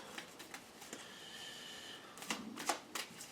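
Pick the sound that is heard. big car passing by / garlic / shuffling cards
shuffling cards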